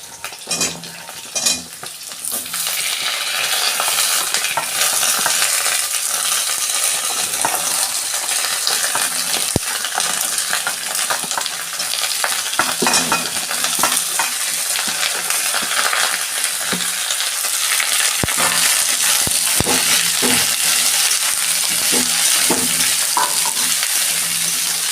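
Mixed vegetables and green chillies frying in oil for vegetable khichuri, stirred continuously: a loud, close sizzle runs throughout, punctuated by sharp metallic clinks and scrapes of the spoon against the pot.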